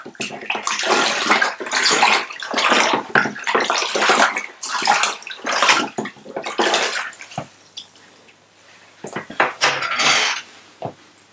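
Tap water gushes into a bucket for home-made elderflower wine, a loud, uneven splashing stream broken by brief pauses, with the clatter of a plastic container being handled near the end.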